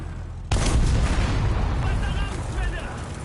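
A War Thunder tank's turret blows off in a sudden loud blast, followed by a sustained rumbling, crackling roar that slowly eases over a few seconds, with faint game tones in the background.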